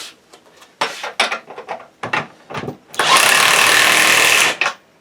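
A wrench tightens a bolt with a series of close, short ratcheting bursts, then a longer steady whirring run before it stops.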